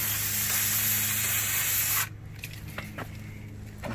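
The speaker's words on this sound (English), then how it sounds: "you can kind of just spray it off with this parts cleaner, carb cleaner, brake cleaner" Brake cleaner sprayed from an aerosol can onto the front brake calipers of a 2004 Suzuki GSX-R 1000 motorcycle, a loud close continuous hiss for two seconds that cuts off abruptly, followed by quieter dripping and faint rubbing.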